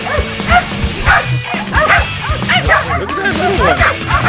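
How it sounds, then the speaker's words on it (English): A small bay dog yips and barks repeatedly in quick, high-pitched bursts at a wild hog, close by, with some whimpering between barks and a voice occasionally underneath. "check that little bitty dog out there"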